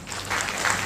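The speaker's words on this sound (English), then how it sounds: "give a round of applause for my minister, Madam Salima Tuba," An audience at a youth day celebration run by a ministry of youth affairs claps for a minister, a brief burst of crowd applause at moderate level.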